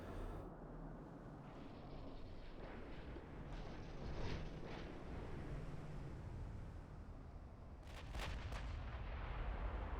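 Battle cruisers fire artillery in a naval strategy video game, heavy booming salvos rolling over a dense, rumbling battle backdrop, with a sharper cluster of blasts near the end, loud and alone without speech.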